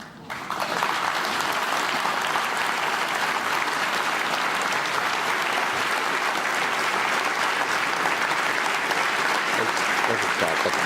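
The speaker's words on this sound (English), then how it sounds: "I would like to invite all the graduates to stand up, turn round, and applaud the people who've been with them throughout this process." Graduates at a graduation ceremony in the UK applaud their families and supporters. Sustained, even clapping from a large room starts abruptly and holds at full strength throughout, loud and close.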